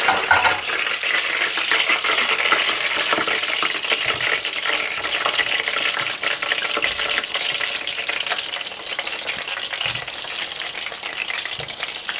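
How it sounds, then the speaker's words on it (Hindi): Gola dum kebabs fry in hot oil with a loud, continuous bubbling sizzle, broken by faint utensil taps. No voices are heard. "बाकी कबाब भी इसी तरह से फ्राई कर लीजिएगा"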